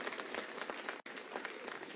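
Dense applause from an audience at a Hindi comedy poetry show, steady and full for two seconds with a brief break near the middle.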